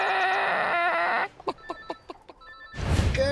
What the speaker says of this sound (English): Now, this is a Buff Orpington chicken.